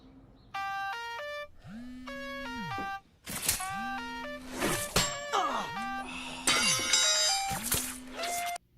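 Phone ringtone playing a theme song, a bright electronic melody in repeated phrases, loud and close, with other film sounds mixed in between the notes.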